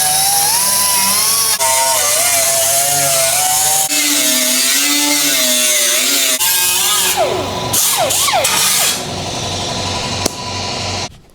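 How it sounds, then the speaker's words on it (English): A power tool grinds burrs off a metal inner wheel well on a body-dropped Squarebody truck, producing a loud, continuous whirring with wavering pitch, then scraping bursts as it works the edge before winding down. "Gonna clean up these burrs real quick."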